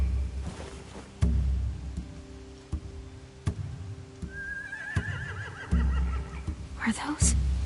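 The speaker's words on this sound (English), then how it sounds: "They have horses." Horses in The Walking Dead video game give a rising, quavering whinny midway through, set among muffled hoof thuds and game ambience, with characters talking quietly over the scene.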